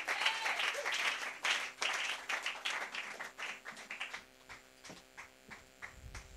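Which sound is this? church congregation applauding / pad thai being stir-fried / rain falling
church congregation applauding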